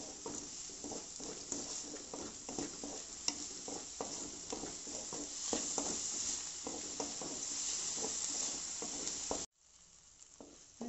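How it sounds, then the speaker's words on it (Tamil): Onions and tomatoes sauté in a pan for a stuffed chapati filling, a continuous close sizzle broken by frequent light stirring taps. It cuts off abruptly near the end, leaving faint quiet. "வெங்காயம் தக்காளியும் நல்லா வதங்கிக்கணும். தக்காளி மேஷ் ஆகிற வரைக்கும் வதக்கணும்"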